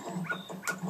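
A dog in the video game Majora's Mask lets out a quick run of short, yipping barks close by, about three sharp calls within a second.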